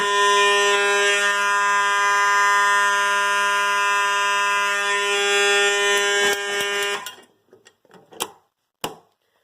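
A loud, steady fire alarm horn blares continuously for about seven seconds during a system test, then cuts off, followed by a few scattered clicks and knocks.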